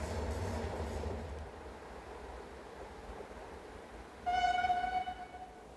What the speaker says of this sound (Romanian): Trenul Dacia deviat.